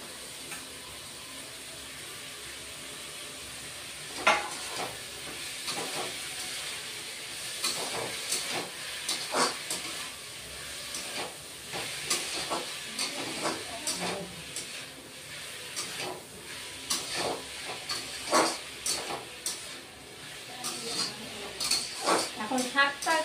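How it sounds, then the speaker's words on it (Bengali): Fresh spinach sizzles and hisses steadily in a hot pan for an Aloo Palong shaak, with a spoon scraping and clinking as it is stirred, and a voice speaks now and then over the frying. "এখন শাকটা একটু 1 মিনিটের মতো একটু ভেজে নিব"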